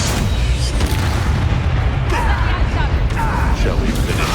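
Confringo explosive spell blasts in Hogwarts Legacy boom out in short, heavy bursts over a constant roar of game combat, repeating several times.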